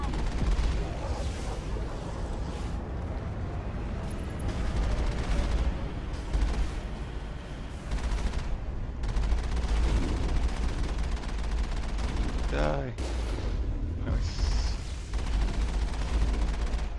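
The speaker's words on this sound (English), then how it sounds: "Our cannons do a lot to it, but our machine gun, not so much." Mako vehicle cannon blasts and machine gun fire in the video game Mass Effect, steady loud gunfire and explosions throughout, with brief spoken remarks over the combat.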